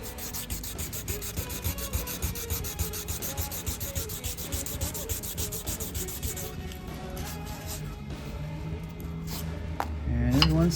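Hand sanding of stainless steel car trim makes a steady, rhythmic back-and-forth rasping rub, close and fairly quiet, that stops partway through before a few handling clanks and knocks.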